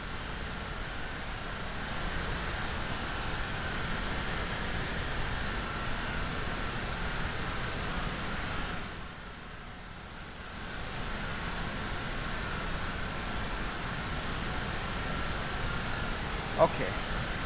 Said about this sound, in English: let's play our pink noise